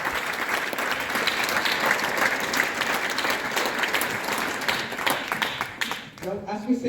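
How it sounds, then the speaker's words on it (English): Sustained applause from the audience at a university graduation ceremony, dense and even for several seconds, then thinning out as a voice begins talking near the end. "Let's give a bigger round of applause to all of them."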